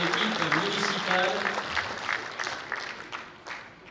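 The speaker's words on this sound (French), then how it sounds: "Je vous fais applaudir les personnes qui, dans l'équipe municipale," A crowd at a municipal new-year greetings event in Montignac applauds members of the town council team, a moderate spread of clapping that mixes with a speaking voice and tapers off.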